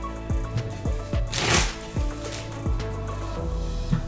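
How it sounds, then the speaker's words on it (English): Deck of cards shuffled by hand for the Hubworld Aidalon card game, a quick run of riffle bursts and taps, close and crisp, with a brief louder flutter midway. "I'll shuffle 3 real quick"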